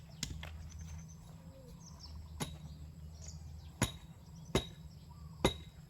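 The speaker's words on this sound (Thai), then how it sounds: "ดินใหม่ตอกไม่เข้าเลย" A stake is pounded into freshly laid soil outdoors, giving sharp isolated thuds, a few loud close blows spaced about a second apart over a low background hum, with no talk.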